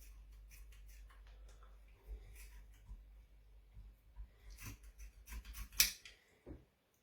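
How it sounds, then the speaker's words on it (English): Boning shears snip the fins off a raw trout on a kitchen counter, making several crisp, close cuts that cluster near the end and sound louder there, over a quiet low hum with no talking. "is to cut this fin off and the gristly musty bit under here. So I can snip in that way."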